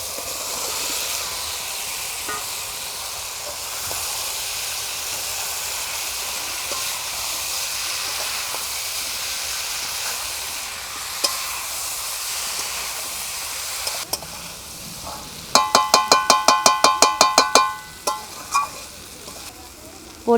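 Fried taro pieces sizzle in spiced oil in a hot pan with a broad, steady hiss. Near the end comes a quick run of sharp clatters, like a spatula striking the pan while stirring.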